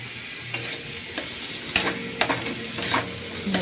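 Spices with turmeric, coriander and cumin sauté in a pan, a quiet steady sizzle broken by a few sharp scrapes and stirs of a utensil against the pan.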